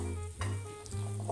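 Mango halwa sizzles in a pan while being stirred, a short, close bubbling hiss with a couple of stirring scrapes.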